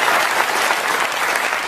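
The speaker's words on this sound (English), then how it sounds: "You clapped too early." Dense audience applause fills the whole short stretch at a late-night comedy show, loud, even and sustained with no speech on top.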